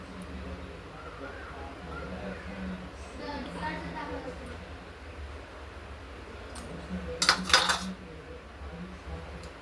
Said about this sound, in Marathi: आता आपण ज्या आकाराचे रोल बनवलेले आहे त्या आकाराच्या याच्या पट्ट्या कापून घेऊ